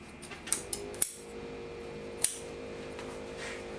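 Scissors snipping off excess upholstery fabric at the corner of a chair, a few sharp, close cuts spaced irregularly over a quiet room background.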